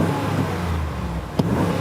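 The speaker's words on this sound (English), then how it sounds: "that's me revving it full in park" A 2019 Ram Rebel pickup's V8 engine revs hard while parked, a loud rumble heard up close, with a short sharp knock partway through.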